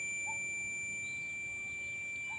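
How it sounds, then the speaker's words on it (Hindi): A continuity tester's buzzer sounds as it checks a float switch for a pressure pump, a steady thin electronic tone held without a break across the whole short clip. "यानी बजर बज रही है। आपको साउंड सुनाई दे रहा होगा।"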